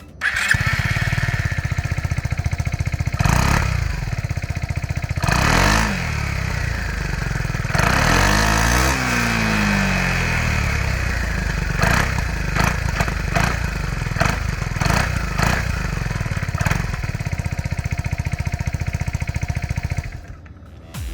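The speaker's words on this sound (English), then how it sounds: "The exhaust sounded decently sporty." A 2022 Italjet Dragster 200 scooter's sporty exhaust, heard close up with a steady idle broken by several sharp throttle blips that rise and fall in pitch, then cut off abruptly near the end.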